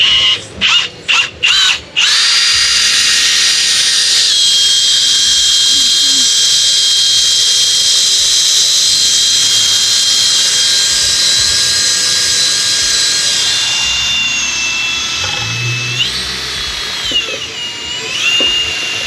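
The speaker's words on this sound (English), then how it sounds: "this is just going to be a light dry hone" Shock absorber bodies get a light dry hone blasting, a loud, sustained hiss and whine from the blaster that starts after a few short bursts and runs steadily, dipping in pitch near the end.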